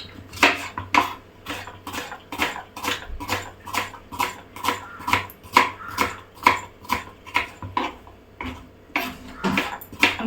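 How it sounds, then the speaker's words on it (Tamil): Knife chopping onions thinly on a board for chicken biryani, a steady run of sharp, rhythmic cuts close by, about two per second, with a faint low hum underneath and no talking. "இந்த பட்டெல்லாம் பொரியறதுக்குள்ளே நம்ம வெங்காயம் கட் பண்ணிக்கலாம்"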